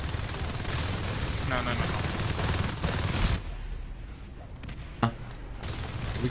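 Rapid bursts of shotgun and gunfire in a tabletop-style battle video game, with dense rattling shots for several seconds, then a quieter stretch broken by a sharp report.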